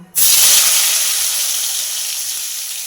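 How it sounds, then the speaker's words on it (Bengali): Potato and pointed gourd hit hot oil with an instant, loud, close sizzle that holds as a steady hiss for the rest of the moment. "এই তেলের মধ্যে আলু ও পটল দিয়ে আলু ও পটলটা ভেজে নেব"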